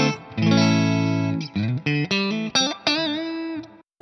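Electric guitar through a Two Notes Mesa cabinet simulation captured with a dynamic microphone, a sustained distorted chord followed by a run of short, choppy overdriven notes and a final bending phrase, alone and up close.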